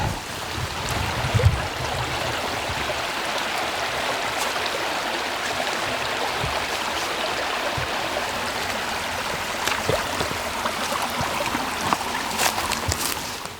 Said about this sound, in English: we'll cross this creek